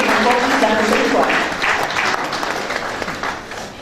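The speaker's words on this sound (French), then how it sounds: "Je vous demande également d'applaudir chaleureusement les sponsors pour qu'ils puissent donner encore plus la prochaine fois." Warm audience applause at the official opening ceremony of a 2013 craft fair in Togo: steady, dense clapping from many hands that stays loud and even, then gradually thins out.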